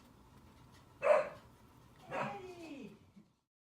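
A puppy indoors gives two short barks at someone outside, the second trailing into a whiny yelp, moderately loud against a quiet room.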